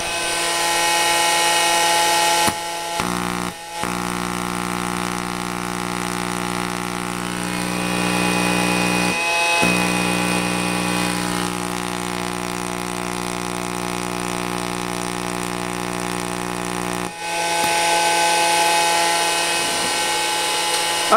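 A base-fed vacuum tube Tesla coil runs with a steady loud electrical hum of many stacked harmonic tones, cutting out briefly a few times and then resuming.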